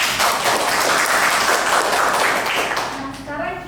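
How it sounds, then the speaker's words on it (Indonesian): Applause from a classroom of students for a group that has just presented, steady and dense for about three seconds before thinning out as a voice begins to speak near the end. "Tepuk tangan untuk kelompok 3"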